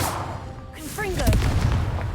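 Confringo blast spell going off in the video game Hogwarts Legacy, a loud booming burst with rising whooshing tones and a heavy low rumble that builds and sustains after the impact.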